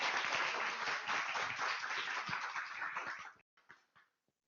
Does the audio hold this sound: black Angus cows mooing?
no